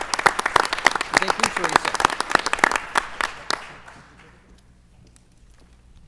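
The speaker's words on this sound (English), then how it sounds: "Have another round of applause for them." An audience at a school board meeting claps in a lively round of sharp, distinct hand claps that thins and dies away after a few seconds, with a brief spoken thanks over it.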